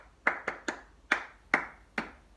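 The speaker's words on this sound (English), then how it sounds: "And then there's a little clapping sequence in the song," Six sharp hand claps ring out in an uneven rhythm, close and clear, as part of a clapping sequence in a children's song.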